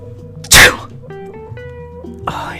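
A single loud, sharp human sneeze bursts out near the start, followed by a quieter vocal sound and a second breathy burst near the end against a faint hum.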